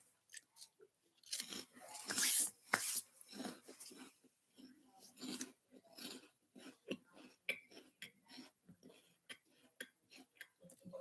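Someone crunching and chewing a puffed cereal snack up close, with loud crisp bites early on giving way to a steady series of softer chewing crunches, and no talking.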